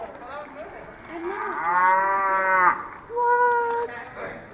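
A talking cattle exhibit at the Cattle Raisers Museum gives out a long, loud recorded cow moo, followed by a shorter second moo, with faint voices around it.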